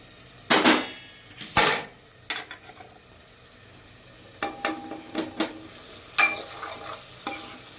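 A spoon scrapes and clatters in a pan of sautéing green garlic, onion and tomatoes, a series of sharp metallic stirring knocks over a faint background sizzle.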